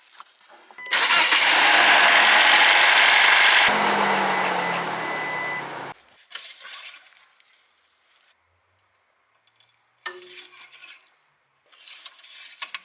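A Jeep Wrangler engine starts up after an oil change, with a loud broadband roar and crank lasting several seconds before it settles to a lower idle, followed by quieter mechanical clanks and handling noises nearby.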